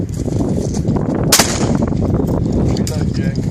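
A shotgun fired outdoors at a baby shower party gives one sharp loud blast that rings out briefly, with a busy background of people talking and noise.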